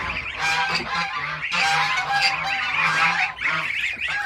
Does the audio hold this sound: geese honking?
yes